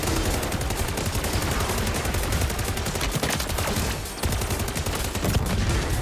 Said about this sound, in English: Who's shooting me? Please stop.